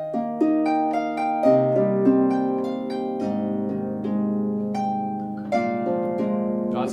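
A harp plays the gentle opening bars of a piece, plucked notes ringing and overlapping in a flowing melody with a quick run, close and clear with no voices.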